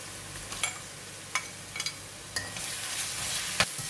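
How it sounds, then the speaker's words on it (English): Ginger and garlic paste fry with softened onions in a pan for a spicy chicken masala, a steady low sizzle broken by several sharp scraping stirs, close and alone without any voices. "Continue to fry until garlic and ginger has released its aroma"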